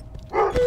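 A dog in the Minecraft video game gives a single short bark or yip, loud and close, with no talk over it.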